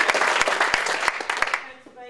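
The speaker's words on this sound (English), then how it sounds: "Round of applause." At a Midwest conference against drone warfare, a modest audience applauds with distinct, uneven hand claps that stand out individually, then taper off and stop about 1.6 seconds in.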